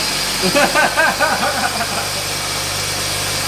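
A BMW E36 engine with a new intake manifold and cold air intake idles steadily and loudly nearby, its low rumble running under brief speech from a person close by.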